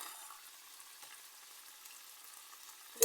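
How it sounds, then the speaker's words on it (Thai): Pork stir-frying with chilies and chopped spring onions in a pan, a faint, steady sizzle and hiss throughout, ending in a short sharp clatter at the very end, no talking. "ก็ตอนนี้เราก็ผัดพริก เอาหมูลงเสร็จเรียบร้อยนะคะ"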